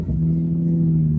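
A newly bought car's engine revving close by, a steady loud mid-pitched drone with strong low harmonics, holding even throughout with no voices.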